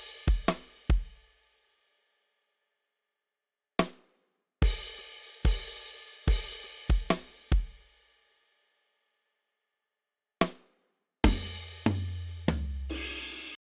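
A drum loop called War from the Essentials Volume 2 kit in FL Studio, with punchy kicks, snares and cymbal hits in sparse bursts separated by gaps of silence, later joined by deep booming 808 bass.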